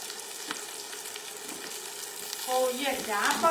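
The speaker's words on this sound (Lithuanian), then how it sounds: "kepsniai mūsų apkepami keptuvėje pirmą" Chicken drumsticks sizzle in a frying pan in a steady close hiss, swelling louder with crackling toward the end, and nobody speaks.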